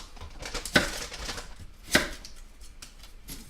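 A knife cuts the bottom off a big onion on a cutting board, two sharp, distinct chops about a second apart, with faint kitchen handling noise between them.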